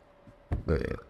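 A single short, throaty burp comes from a man during an airsoft podcast, loud and close, with a brief stretched rumble after a soft onset.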